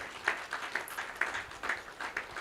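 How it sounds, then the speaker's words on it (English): Guests at a farewell dinner giving a short round of applause, a modest group clapping at a moderate distance with a few sharper claps standing out over a soft crowd murmur. "Can we give her a clap?"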